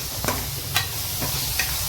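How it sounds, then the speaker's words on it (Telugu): Ginger garlic paste masala for fish curry is stirred in a pot over a constant sizzle, with a few brief scraping strokes at a slow, uneven rhythm. "మనం ఎప్పుడైనా అల్లం వెల్లుల్లి పేస్ట్ వేసాక కొంచెం గిన్నె కంటుంది కాబట్టి ఇలా కలుపుకోండి"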